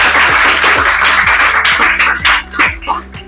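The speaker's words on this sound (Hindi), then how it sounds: "एक बार जोरदार तालियां हो जाए उनके लिए।" Audience applause at a 12-year anniversary and AI batch inaugural event at an academy, a steady wash of clapping throughout with a faint low rhythmic pulse underneath, fading slightly near the end.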